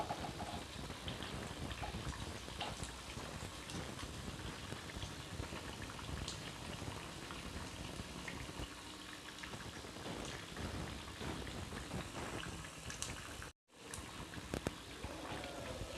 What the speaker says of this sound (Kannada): ಇದನ್ನ ಎರಡು ಕಡೆ ಫ್ರೈ ಮಾಡ್ಕೋಬೇಕು ಚೆನ್ನಾಗಿ ಗ್ಯಾಸ್ ಮೀಡಿಯಮ್ ಫ್ಲೇಮ್ ಒಳಗೆ ಇಟ್ಕೋಬೇಕು